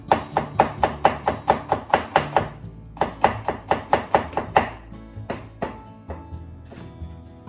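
A knife chopping daikon radish into thin strips on a cutting board, quick even knocks in a steady rhythm, close and crisp, with a short pause before a few slower final cuts.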